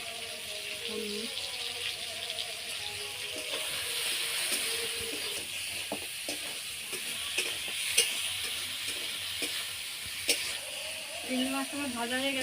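Prawns fry with turmeric and salt in a pan, giving a steady, fairly loud sizzle and hiss with occasional stirring clicks, while a voice talks intermittently over the cooking.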